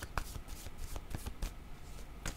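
An oracle card deck is shuffled by hand in a close, quiet room, giving quick irregular card flicks and taps over a few seconds with no speech.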